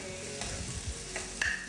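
Two chopped tomatoes go into a hot frying pan and are stirred in while making nemmeen pollichathu: a steady sizzle under a few soft scraping stirs, close and brief, with no talk.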